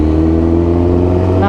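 A 2004-2005 Kawasaki Ninja ZX10R sportbike engine running close and loud, a steady harmonic drone holding for a moment before the pitch starts climbing at the very end as the throttle opens.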